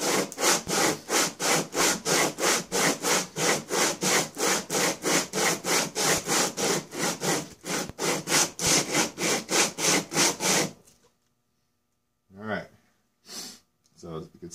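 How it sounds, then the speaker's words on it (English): A warped Polaris cylinder head is rubbed back and forth on 80 grit sandpaper, loud rhythmic rasping strokes repeating about three per second for ten seconds, then a pause and a couple of slower final strokes. "The 80 grit scratching everything smooth except for that spot."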